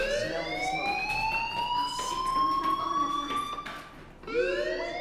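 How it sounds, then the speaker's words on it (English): A school fire alarm in the Life is Strange video game wails in long rising tones, repeating steadily and loud with no talk over it. "Hey, do you hear that fire alarm?"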